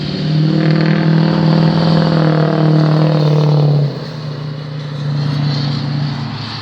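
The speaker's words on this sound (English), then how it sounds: "That was a Ford F-250 truck." A Ford F-250 truck engine drones loud and close with a strong, steady growl that rises slightly in pitch, then dips abruptly near four seconds before building again, as if the vehicle revs and moves past.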